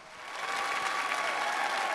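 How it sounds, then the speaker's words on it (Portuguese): A church crowd breaks into applause welcoming a priest, the clapping swelling quickly into a broad, steady roar of many hands with no voices on top. "Uma salva de palmas para o Padre Joelson César Sotem."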